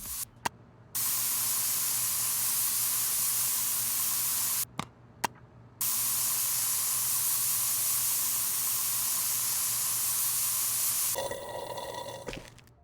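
Spray painting in the video game Spray Paint Simulator: long steady aerosol hisses, broken by brief silent gaps and short bursts, then a rattling, clattering finish, fairly faint with no talking.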